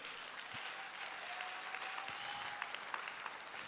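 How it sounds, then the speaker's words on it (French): A church congregation claps together, a sustained dense patter of many hands at moderate distance with a few sharper individual claps standing out. "Applaudis très bien le Seigneur des Seigneurs."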